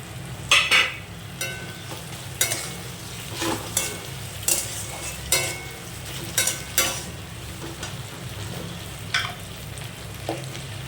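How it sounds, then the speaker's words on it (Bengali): Ground spice paste with cumin and tomato is fried in a pan for ghugni made with goat fat, giving a steady sizzle broken by repeated stirring scrapes and clinks at irregular intervals. "আবার একটু ভেজে নেব মশলাটা কষে নেব হালকা করে দিয়ে দিলাম টমেটো কিছু"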